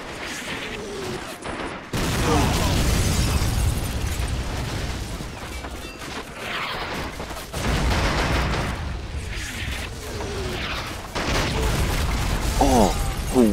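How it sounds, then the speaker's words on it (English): Heavy booming artillery blasts and crackling gunfire in a large World War II video game battle roll in waves, loud and dense, with a few sharp mechanical clanks between the volleys. "let's throw a couple of artillery explosions"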